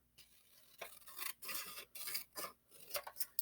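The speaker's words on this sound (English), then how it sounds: "scissors and I am going to cut on this line." Scissors snip through a cardboard box being made into a mini greenhouse, several rasping cuts in irregular bursts, close and clear, with no talking.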